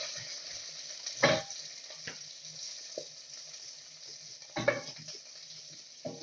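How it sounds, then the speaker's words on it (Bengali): Meat frying in a pan with whole cumin crackles in a low steady sizzle, broken by two louder stirring scrapes and a few light clinks of a spatula against the pan. "আমি সামান্য নেড়ে নিচ্ছি আসলে।"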